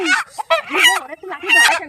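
A rooster kept among fowl gives loud, close, raspy calls in several bursts, harsh honking squawks rising and falling.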